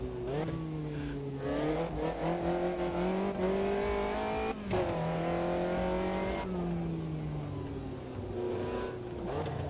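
A Caterham sports car races in the sim game Assetto Corsa Evo, its engine revving and shifting through gears steadily, with rising and falling pitch and a brief tire squeal.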